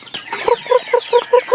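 Chickens cluck in a quick, regular run of short calls, close and fairly loud.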